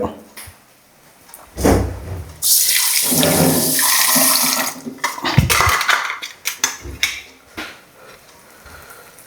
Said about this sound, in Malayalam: നമ്മൾ കഴുകുക